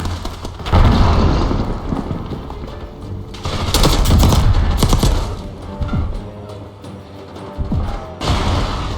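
Explosions and bombing in Call of Duty: Black Ops 6, heavy booms and thuds in bursts with rattling gunfire between them, loud and close, rising and falling in waves.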